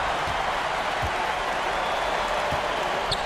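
Basketball crowd in the NBA 2K26 video game, a dense, steady arena roar of cheering and applause that runs unbroken through the whole clip, with faint thumps beneath it and no clear talk over it.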